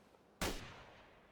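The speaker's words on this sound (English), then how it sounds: "Some sort of strange gunshot sound." A single distant gunshot in Fallout 4: one sharp crack, moderately loud, that trails off into a faint rumbling tail, heard alone against quiet ambience with no talking.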